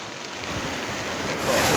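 Floodwater from a rain-swollen river near Vasai Phata, roaring as a broad, steady rush that swells slightly toward the end, with wind buffeting the microphone and no voices.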